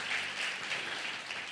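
Church congregation applauding in a steady, dense wash of clapping, moderately distant, with no voices over it.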